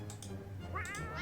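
A cat meows in the video game 60 Seconds, a short rising cry near the end over faint low background sound, with no clear speech.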